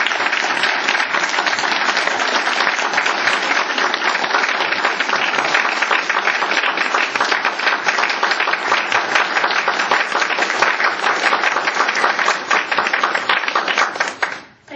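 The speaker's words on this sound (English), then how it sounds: "Let's give a round of applause." A lecture audience gives sustained, dense applause at the close of a talk on African American women writers and the Bible, steady and full for about fourteen seconds before it cuts off abruptly.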